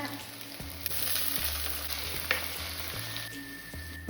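Ginger frying in coconut oil, Kerala style, makes a steady, close crackling sizzle with faint stirring clicks and a low hum underneath, and no talk.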